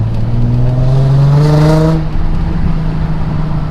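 A Nissan 350Z with sports cats exhaust idles and then revs to about 3,000 RPM, a loud rising sweep lasting around a second before dropping back to a steady idle, close and alone.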